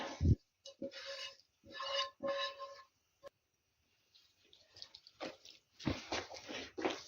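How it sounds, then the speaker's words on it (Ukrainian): Minced meat stuffing for stuffed peppers, with parsley and fried vegetables, is mixed by hand close up, giving several short wet squishing and rubbing bursts separated by brief pauses. "Трошки отак перемішаю оцю всю начинку, хай фарш розійдеться там добре."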